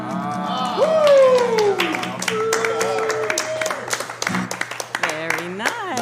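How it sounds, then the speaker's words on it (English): An audience claps and applauds at a New Orleans happy hour. Brisk clapping runs through the middle under sung and spoken voices, and a sliding vocal tone rises above the crowd. "We wouldn't have clapped nearly that much if we weren't part of it."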